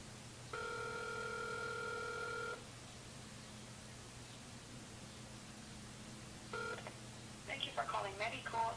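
Electronic telephone tones sound steadily for a few seconds, stop, then return briefly before faint chirpy sounds over a hiss.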